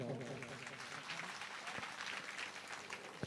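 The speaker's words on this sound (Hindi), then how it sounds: "एक बार जोरदार ताली बजाओ।" A crowd at a village singing competition in Bemetara claps loudly and steadily, a dense unbroken wash of applause lasting a few seconds.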